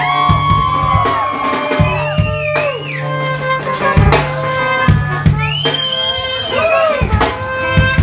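At a live concert in a bar, the crowd cheers for the horn player. Shouts, whoops and yells rise repeatedly over a loud band, close and energetic, with a voice in the mix.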